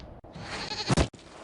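A goat bleats in Dragon Age: Inquisition, one short, loud, wavering cry near the end over a steady game background hum.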